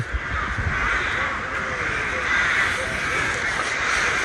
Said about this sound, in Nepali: कागहरू चाहिँ ओभरै छ क्या यहाँ